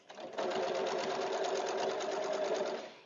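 A sewing machine runs steadily, stitching scrappy nine-patch quilt blocks, with a continuous even whir starting after a brief pause and holding close and loud for nearly three seconds before winding down.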